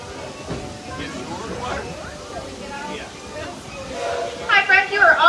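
A theme park train pulls into a Frontierland station at Magic Kingdom with a low rolling rumble and hiss under crowd babble and a voice, then brighter squealing and clanking swell near the end as it comes to a stop.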